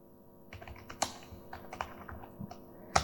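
Typing on a computer keyboard to enter a web search, a run of close, crisp key clicks in an uneven rhythm with a few louder strikes, no talking.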